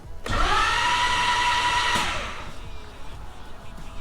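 Nissan 300ZX engine cranking over with its fuel injectors disabled: a loud, even whirring starter drone that runs about two seconds, then cuts off and leaves only faint background noise, no speech.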